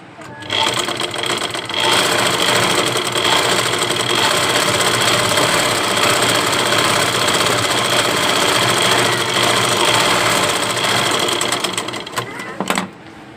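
Sewing machine top-stitching invisible thread piping, a loud continuous close-up whir with rapid needle chatter running steadily for over ten seconds before stopping.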